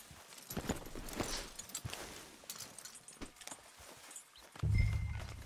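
A horse in the Red Dead Redemption 2 video game clops along in a steady walking rhythm, the hoofbeats fairly close and moderately loud, ending in a heavier low thump.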